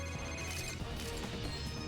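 In-game telephone ringing in Need for Speed Most Wanted on Xbox 360, a continuous electronic ring over dense game music and engine noise, moderately loud throughout.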